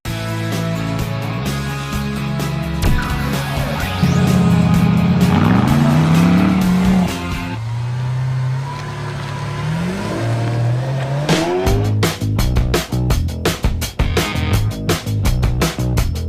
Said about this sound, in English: let's just test it on the track and see how fast it does from 0 to 60.